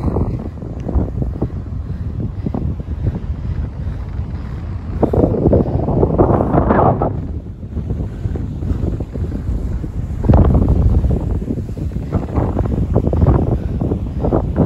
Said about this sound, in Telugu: బట్ గాలి చూసారు కదా ఎలాగుందో